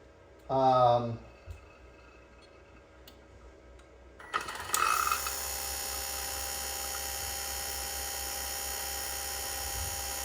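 A Blue Alpine freeze dryer's vacuum pump switches on partway through, after a short tonal sound and a quiet stretch, then runs as a loud, steady, droning hum with a broad rushing noise until the end.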